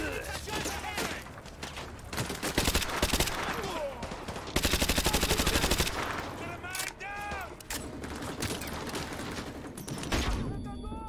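Gunfire in the video game Call of Duty: Modern Warfare 2, dense bursts of automatic fire and single shots overlapping with heavy game ambience, loud and close, with a sustained rapid burst in the middle.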